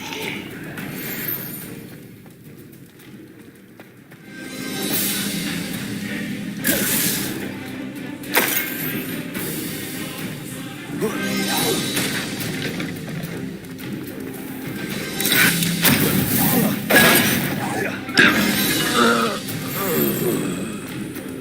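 Spell combat in Hogwarts Legacy produces bursts of whooshing magical blasts, cracks and crashing impacts, loud and irregular, spread over a busy stretch of battle noise with some voice shouts mixed in.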